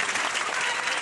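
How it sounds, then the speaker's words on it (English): A graduating class and guests at a high school commencement break into a dense wash of applause, loud and continuous through the whole short burst. "Let's give a big round of applause"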